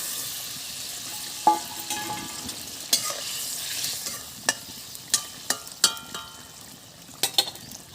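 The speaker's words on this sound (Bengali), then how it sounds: "মশলাটা ফুটে গেছে ভিজে রাখা মাছগুলো দিয়ে দেবো" A spice paste with green chillies bubbles softly in a pan for a Bengali sole fish jhal, and soaked fish pieces go in. Sharp splashes, spatters and sizzles come in irregular bursts over the low frying.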